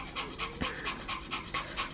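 A Spitz dog in labor pants heavily and rapidly, with a steady rhythm of quick breaths, close and clear, with no talking over it.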